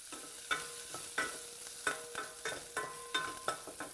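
Two cloves of chopped garlic sautéing in a couple teaspoons of olive oil, a steady close sizzle broken by repeated spoon strokes scraping and stirring the pan, with no voices.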